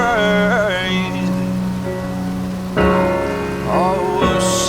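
Steady rain falls outside a porch shelter, a soft continuous hiss beneath a song, whose sung melody and instruments dominate.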